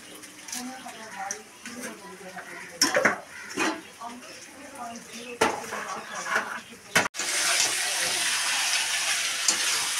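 A spoon clatters and scrapes against a pan while curry is stirred and sautéed at home, sharp metallic knocks at uneven intervals, then a loud steady sizzle takes over, with someone talking nearby.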